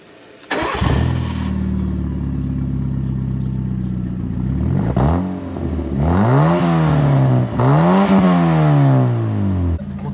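A Fiat Panda engine cranks and catches, settles into a steady idle, then revs up and down twice in rising and falling sweeps, loud and close.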